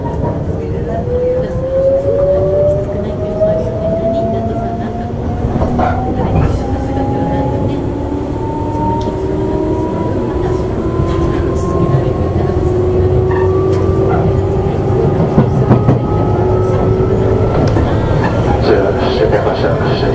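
Tobu 8000 series electric train, MoHa 8850 car, running between Nanakodai and Kashiwa, heard from inside with steady loud rumble, clattering wheels and rising motor whine over several seconds.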